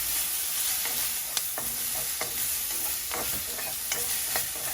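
Rib seasoning with black pepper and spring onions is tossed in a frying pan, giving a continuous close sizzle with a few light clicks and scrapes from stirring and no speech.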